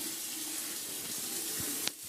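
Water running from a tap into a bucket: a steady, close gush of pouring water that ends with a short splash near the end, alone without speech.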